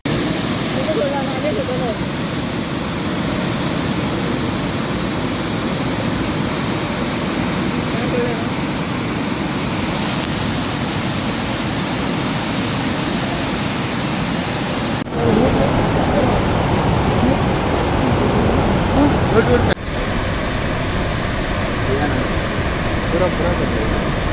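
A steady, loud roar of water released through four crest gates of the Kadra dam near Karwar, about 10,600 cusecs, fills the whole stretch, dense and unbroken, with a couple of abrupt shifts in tone partway through.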